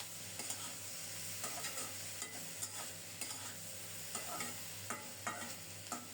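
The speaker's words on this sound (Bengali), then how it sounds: "নেড়ে চেড়ে ভালো করে মিশিয়ে ঢেকে ঢেকে খুব সুন্দর মতো কষিয়ে নেব।" Dried loitta fish being stirred and sautéed with vegetables in a pan, a soft continuous sizzle broken by repeated scraping strokes of a spoon, fairly quiet and close.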